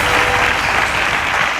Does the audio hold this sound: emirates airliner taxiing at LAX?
no